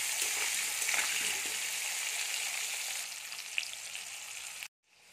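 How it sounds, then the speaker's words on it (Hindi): Potato pieces frying in hot oil with salt and turmeric over a medium to high flame, a loud dense crackling sizzle that eases slightly before stopping suddenly near the end. "दो से तीन minute medium to high flame पर आलू को अच्छे से फ्राई कर लिया।"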